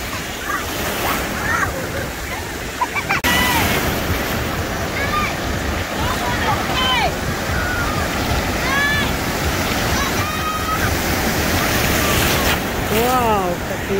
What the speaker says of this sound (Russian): Вау, какие волны.